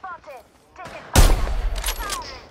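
Heavy burst of gunfire in the battle royale game Apex Legends bursts in loud and close after a quieter stretch of game sounds, a dense volley of shots continuing to the end.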